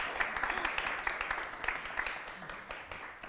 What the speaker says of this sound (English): And it's okay to clap and be excited.